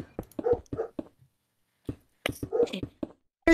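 Hellhound dogs from a zombies round in Call of Duty Black Ops Cold War, a series of short snarling, growling and yelping bursts in two clusters separated by a pause, fairly close and loud, with no talk over them.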